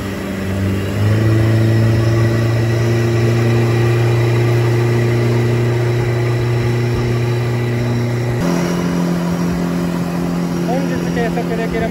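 A Yamaha UF-20 boat from 2000 runs at about 5500 rpm with a loud, steady, droning engine hum that shifts to a slightly different pitch partway through, while someone talks over it.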